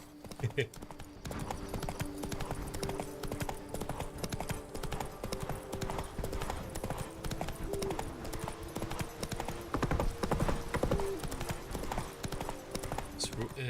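Roach the horse's hooves clip-clopping steadily in The Witcher 3, a continuous rhythmic gait over game music and ambience with a voice talking over it throughout.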